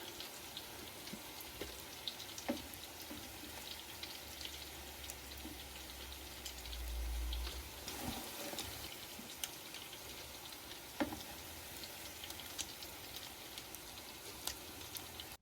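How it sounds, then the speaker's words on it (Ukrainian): Potato and zucchini pancakes frying in two pans give a faint, steady crackle and sizzle with scattered pops and spits throughout, heard without any talk. "тертюшки шкварчать, рум'яняться, пахнуть"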